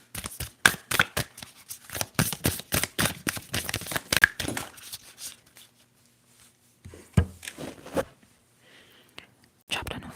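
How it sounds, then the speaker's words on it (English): A tarot card deck being shuffled, with rapid dense riffling flicks for several seconds, a pause, then a few scattered card taps and snaps close up. "I'm going to shuffle."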